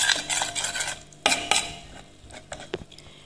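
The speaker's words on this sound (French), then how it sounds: "Il faut bien mélanger pour que le beurre et le caramel soient homogènes." A spoon stirs butter into caramel in a pan over gentle heat, with scraping strokes and several sharp clinks against the pan over a faint sizzle.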